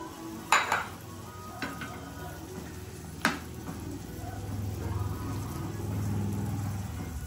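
Ground-meat broth poured into a cooking pot of stuffed squid, following a few sharp clanks of pot and utensil, then a steady low watery rush that swells and holds to the end.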